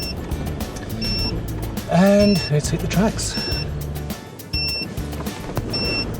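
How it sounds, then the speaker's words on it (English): A tyre pressure monitor chimes with short, high, evenly spaced beeps about once a second inside a 4WD on Fraser Island, warning that the tyres are too low after being let down to about 20–22 psi. Someone talks over the beeps and engine noise. "Now that beeping you hear is a tyre pressure monitor telling me that tyres are far too low"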